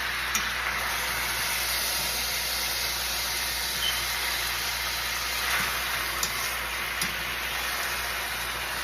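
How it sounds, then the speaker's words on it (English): Curry chicken fries in a pot with a steady, hissing sizzle, punctuated by occasional soft pops and clicks. "So it's cooking and it's frying as it goes"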